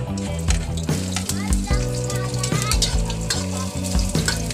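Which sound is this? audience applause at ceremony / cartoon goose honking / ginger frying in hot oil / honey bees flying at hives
ginger frying in hot oil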